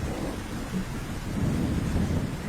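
Heavy rain pours steadily in a cartoon jungle while low thunder rumbles and swells beneath it, dense and close with no voices.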